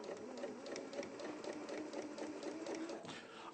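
A sewing machine stitches fabric with a steady, fast mechanical whirr and rhythmic needle clatter, close and continuous throughout.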